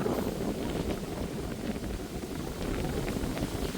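Steady cold wind rushing and buffeting outdoors in a garden, a continuous broadband roar with low rumble throughout, no voices.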